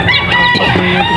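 Native chickens clucking nearby, a steady run of overlapping hen calls with harmonic squawks through a short stretch, no talk over them.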